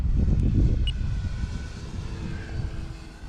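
A radio-controlled model airplane engine roaring past in a fly-over at an RC club field, loud and close at first, then droning away and fading.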